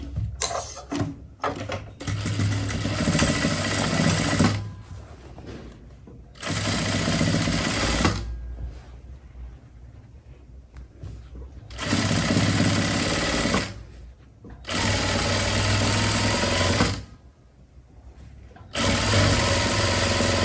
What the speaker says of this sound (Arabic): دابا غادي نخيط الخلف مع الخلف